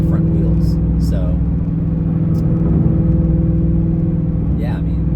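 Mercedes SLS AMG, a front mid-engine sports car, cruising with a steady low engine and road rumble throughout, close and loud, with brief bits of talk over it.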